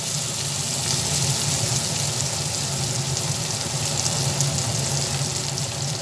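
Ingredients for ghugni frying in oil, including ginger paste, with a loud, dense and constant sizzle up close under steady stirring, and no voices.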